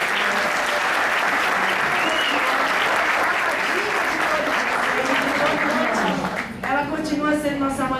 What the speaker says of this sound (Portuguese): Eu quero uma salva de palmas.